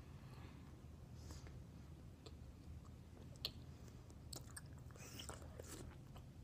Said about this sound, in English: Okay, so let's chew.